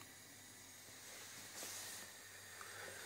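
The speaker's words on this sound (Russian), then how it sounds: "Включаем газ." A gas stove burner hisses softly and steadily under a frying pan, with a brief louder rush of gas partway through.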